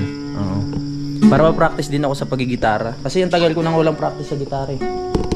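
Crickets chirp steadily in the background while people talk casually over them.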